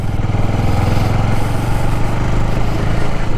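A motorcycle rides over a badly broken road, its engine putting out a steady, loud, close mid-pitched drone with a rough, pulsing note and no pause.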